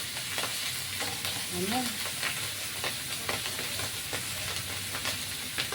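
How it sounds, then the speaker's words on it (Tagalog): Hot cooking oil crackles and spits steadily as dried fish (tuyo and daing) fries in a pan, with sharp popping bursts over a continuous sizzle and a brief voice speaking. "Ay, nananalsik yung mantika"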